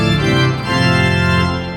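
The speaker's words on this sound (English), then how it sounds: "And with the septima, it sounds like this." Sustained chord on a large pipe organ, formerly the largest in Austria, with the septima mutation stop added to the registration, giving a dense, bright, richly colored tone that holds steady and loud throughout with a slight swell midway.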